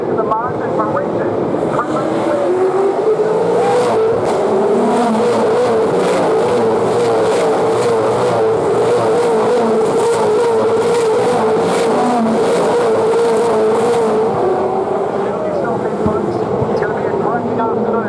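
V8 Supercars race cars roaring loudly and continuously around the Gold Coast 600 street circuit, a sustained dense engine drone with shifting pitch as cars pass, under commentary.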